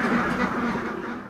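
Ducks on an integrated livestock farm in Faridpur, Bangladesh, quack in a brief, continuous, nasal chorus heard close and fairly loud, with no talking.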